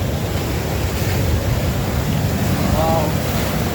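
Ocean waves break along a beach coastline in a continuous loud wash of surf, mixed with gusty wind buffeting the microphone, with no distinct voices standing out.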